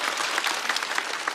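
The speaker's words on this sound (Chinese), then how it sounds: "再次掌声送给 Kid，" A studio audience at a Chinese variety competition show claps for the performer Kid, with dense, steady applause from a crowd filling the whole moment without a break.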